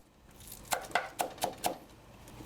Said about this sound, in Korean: 칼질이 꽤 능숙하죠.